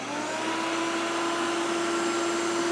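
A vacuum cleaner powered by an Oupes 2400W portable power station runs steadily, a loud continuous whine with a strong motor hum that holds constant throughout, with no talking.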